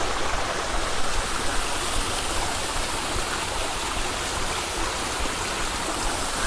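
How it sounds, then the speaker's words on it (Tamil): Waterfall above Tiruvannamalai, its broad, steady rush of falling water filling the scene continuously from near at hand, with no voices over it. "திருவண்ணாமலைக்கு மேலே இப்படி ஒரு அருவி ஓடுது."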